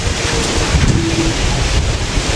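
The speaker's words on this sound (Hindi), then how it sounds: "गाइस तूफान आया तूफान" Storm wind gusts during a sudden evening storm as rain begins. It makes a loud, continuous rushing roar that buffets the microphone, with no one talking.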